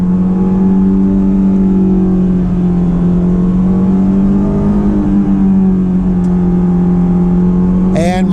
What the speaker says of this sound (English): so this is the stock intake noise you're hearing, the stock exhaust noise.